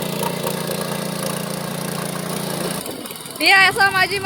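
A tractor engine on a village farm thrums steadily at close range for about three seconds, then cuts away as people talk and higher tonal sounds take over.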